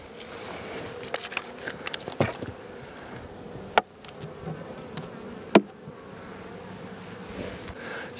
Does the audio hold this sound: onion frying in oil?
no